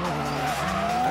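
Japan GT race car sliding sideways through a turn, tires squealing in a sustained loud screech over a droning engine, close and continuous.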